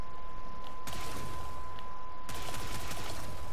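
Gaze weapon firing in a shooter video game, heavy broadband bursts of gunfire filling the scene, with two sharp onsets of sustained loud shooting over a steady tone.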